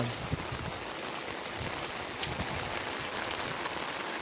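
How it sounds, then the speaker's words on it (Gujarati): Heavy rain pours down steadily in a village, a dense continuous hiss of drops with occasional sharper patters, close and without voices. "તો કેટલો ફૂલ વરસાદ આવે છે"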